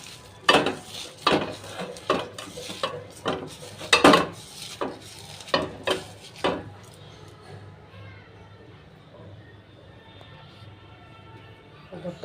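Boiled potatoes being mashed for aloo bharta in a pan with fried onions, a series of rhythmic scraping and thudding strokes for several seconds, then quieter rubbing as the mashing slows.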